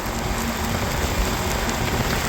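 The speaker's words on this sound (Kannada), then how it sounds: "ಮಳೆ ಬೇರೆ ಜೊತೆ ಉಯ್ತಾನೇ ಐತೆ, ಎಷ್ಟಾನೇ ಐತೆ ಮಳೆ" Heavy rain pelts down during a motorbike ride, a dense, unbroken hiss of downpour that stays loud and even from start to finish with no voices.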